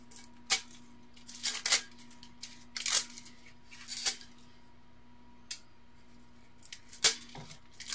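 Scissors snip through sublimation paper in several separate crisp cuts, some in quick pairs, close and fairly quiet against a faint steady hum.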